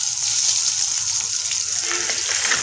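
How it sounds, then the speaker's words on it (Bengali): Marinated eggplant pieces fry in hot oil for a potato, eggplant and dried kachki fish dish, a dense continuous hissing sizzle, close and loud, with faint crackles. "এখন বেগুনটা ভাজা হবে"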